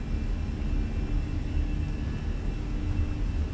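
An Airbus A320's jet engines at takeoff power in a flight simulator, rolling for departure from St Maarten, giving a steady, loud, broadband roar with a low rumble and a faint whine, unbroken throughout.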